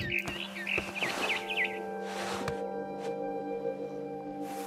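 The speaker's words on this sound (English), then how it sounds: "Then I heard chirping outside my window. It was a barn swallow going back to her nest." Short barn swallow chirps and tweets in the video game What Remains of Edith Finch, a few quick warbling calls near the start, over a steady humming background with occasional soft clicks.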